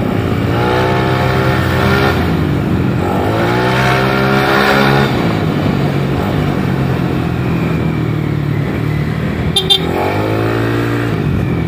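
A Yamaha Lexi 155cc scooter, a tuned championship machine, accelerates repeatedly in loud, close rising engine sweeps that drop back between pulls, with a faint voice in the background.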